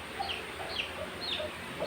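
Purebred hens on a Pakistani dairy and livestock farm cluck in short scattered calls over a steady outdoor background hum, moderately close.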